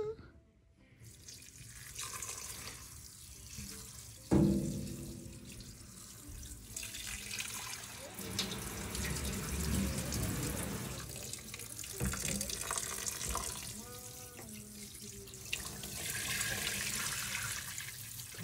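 Running tap water rinsing plant-dyed fabric, a steady splashing gush that rises and falls as the cloth is moved under the stream, with a thump of handling partway through.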